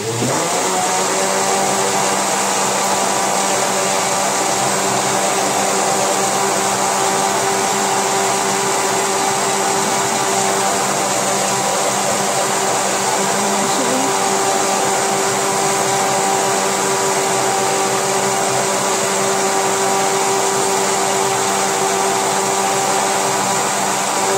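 An electric hand mixer whirs steadily as it beats cake batter for a fluffy sponge cake, a loud, constant motor drone with no pauses and no talk.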